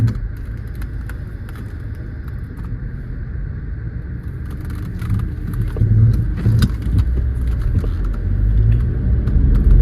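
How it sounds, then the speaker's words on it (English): A car speeding close behind on the road, heard as a steady, loud low rumble of engine and tire noise from inside a moving vehicle, swelling slightly toward the end. "Girl, this car was flying behind me."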